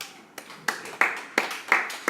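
A few people clap at a church youth-group sermon, about six separate, uneven handclaps spread across two seconds. The claps are moderately close and there is no talking.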